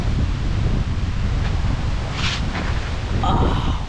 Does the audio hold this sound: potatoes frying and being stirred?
no